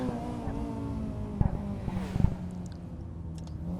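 Honda Integra Type R DC2 engine cruising at speed on the road, a steady, moderately loud low drone with a constant tone and a couple of brief bumps, no talk.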